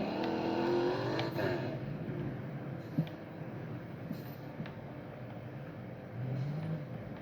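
A car engine in the video game Fix It Up revs and drifts, a fairly faint, wavering motor drone with rising rev sweeps early on and small clicks throughout.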